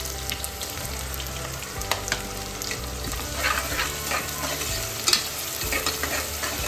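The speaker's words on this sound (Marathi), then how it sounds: "तेलात लसूण टाकलं ना छान लागतं" Crushed garlic sizzles steadily in hot oil for a spicy chicken curry, with a constant close hiss and occasional scraping as a spoon stirs the pan.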